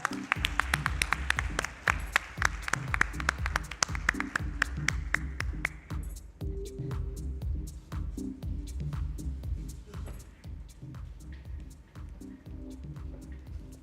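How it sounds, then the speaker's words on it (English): An audience at the Spark Minda BE Summit 2025 breaks into sustained applause during a stage photograph, dense clapping that thins out after a few seconds into scattered claps and light taps, fairly close and alone without speech. "Huge round of applause"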